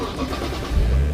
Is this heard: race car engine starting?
yes